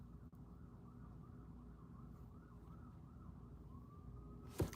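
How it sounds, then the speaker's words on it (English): A distant emergency vehicle siren wails faintly in steady, wavering sweeps behind a low constant rumble, with no talking. "You hear that siren?"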